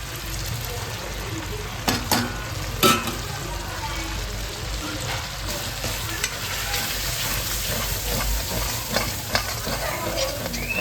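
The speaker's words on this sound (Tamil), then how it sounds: "தக்காளி நல்லா வதங்கி எடுத்து மசாலா போட்டுக்கலாம்" Tomatoes and masala spice powders sauté in a pan for a paneer pulao, giving a steady sizzle with scraping stirs and a few louder clinks, close and continuous without talk.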